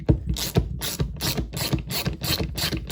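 A socket ratchet spins the top nut off a SAB Goblin RAW 700 nitro helicopter during a rebuild, giving a steady run of close, crisp ratcheting clicks in regular bursts with no talk.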